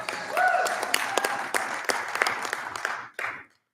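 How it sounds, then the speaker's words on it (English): Applause from a forum audience for the timekeeper at a 2025 candidate forum, a dense patter of clapping with a few sharper claps that fades out near the end. "She always gets more applause than me."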